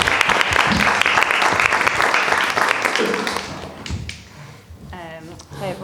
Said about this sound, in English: let's give a round of applause for Lucy